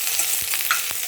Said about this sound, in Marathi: बारीक गॅस ठेवा भेंडी परतताना